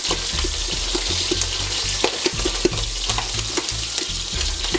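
Onions fry with braised pork belly cooked in Indian spices, a loud close continuous sizzle and spatter with irregular pops and crackles, alone without talk.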